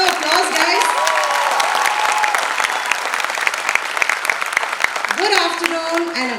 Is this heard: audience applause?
yes